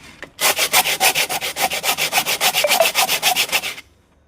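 A coconut shell is ground or rubbed down in a rapid, even series of about twenty loud, rasping strokes, close up and alone, stopping abruptly at the end.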